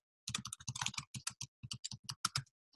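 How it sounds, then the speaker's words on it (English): Quick bursts of typing on a computer keyboard, close and crisp, with uneven runs of keystrokes separated by short pauses and no one speaking. "type in a title"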